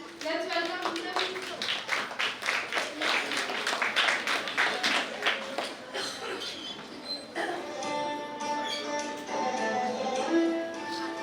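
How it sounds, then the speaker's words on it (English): Audience applause at a school cultural event, a burst of many hands clapping in quick irregular claps that fades into quieter tonal sound and background murmur. "Please a round of applause for Hindavi."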